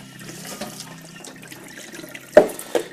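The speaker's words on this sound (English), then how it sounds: "So I am washing the rice in tap water, but I did soak it using spring water." Rice being rinsed under a running kitchen tap, water splashing steadily with two louder sloshing bursts near the end, close and without talk.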